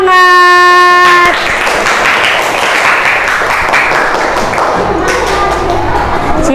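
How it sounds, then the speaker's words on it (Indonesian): Audience clapping for a group at a classroom teaching session, steady dense applause following a short electronic chime, continuing for several seconds before thinning out. "kita kasih tepuk tangan yang"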